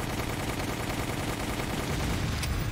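Rapid, continuous gunfire in Resident Evil: The Umbrella Chronicles, dense overlapping shots forming a steady roar aimed at a rocket launcher, loud and unbroken throughout.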